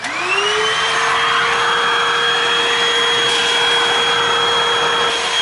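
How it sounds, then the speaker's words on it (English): Steady, loud whine of a vacuum cleaner sucking up excess static grass from model railroad mountain scenery, a continuous high-pitched drone running alone from start to finish. "I think I'll get the vacuum over here one more time"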